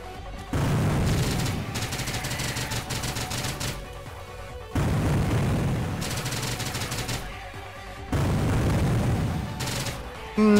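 Grenade launcher fire in the fast-paced shooter STRAFE: three long stretches of loud, rapid, rattling bursts separated by short gaps, with a faint voice in the background.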